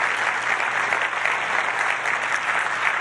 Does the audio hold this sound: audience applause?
yes